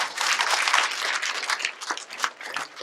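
A crowd at a school science fair applauding steadily, dense clapping that thins a little near the end, with no one speaking.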